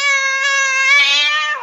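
A cat lets out one drawn-out, loud meow that rises and then trails off, heard close and alone with no voices.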